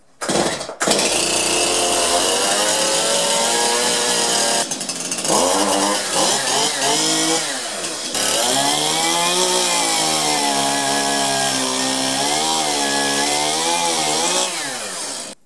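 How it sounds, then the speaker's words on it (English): A chainsaw roars loudly and steadily, its engine pitch rising and falling as the throttle is worked, with a brief drop near the middle before it revs again. "Today, we're going to make music with a chainsaw."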